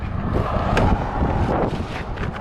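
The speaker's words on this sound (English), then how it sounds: "I know it's windy as shit." Gusty wind buffets the microphone outdoors beside a 2017 Subaru WRX, producing close, uneven low rumbling swells with brief louder gusts.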